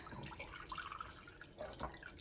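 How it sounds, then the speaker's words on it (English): Tap water runs into a cup at home, a continuous bright splashing and trickling that fills the whole stretch with small drips and gurgles, heard alone without speech. "I'm gonna go ahead and fill this one up with a cup of water"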